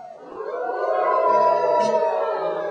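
Several young voices let out a rising, wavering howl together, imitating a coyote, sustained for a couple of seconds.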